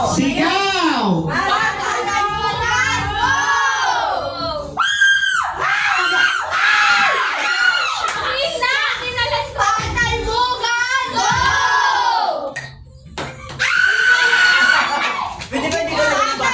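Family members at a New Year party scream together on command during a game, with repeated loud bursts of shrieking voices broken by short pauses and some talk between them.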